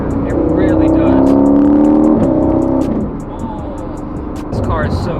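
A 2019 Aston Martin Vantage engine, the same unit as the AMG GT S, pulls hard under acceleration, a loud rising roar that eases off midway before building again, with a voice speaking over it.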